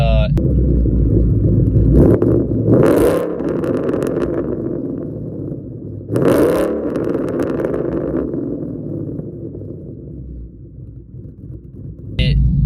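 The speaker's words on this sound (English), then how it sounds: "It is a very loud tune." A loud cammed 5.0 V8 in a 2014 Mustang GT with a Bama Ghost Cam tune rumbles and revs in deep, throaty bursts, with two sharp surges of acceleration standing out over the steady growl.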